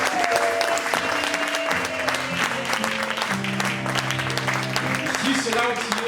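A church congregation claps and cheers to praise the Lord, a dense, continuous burst of applause with voices and music mixed in throughout.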